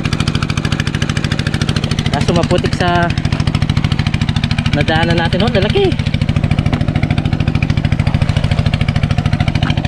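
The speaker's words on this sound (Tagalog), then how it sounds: "pasensya nyo po, maingay yung tawag nito, makina" A loud machine engine chugs steadily at close range with a rapid, even pulse, running throughout while someone speaks briefly over it in a muddy spot.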